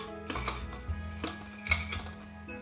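Metal clatter from a pressure cooker lid being handled and closed over Basanti Pulao, a handful of light knocks and clinks spread irregularly over a couple of seconds, fairly faint and close, with no talking.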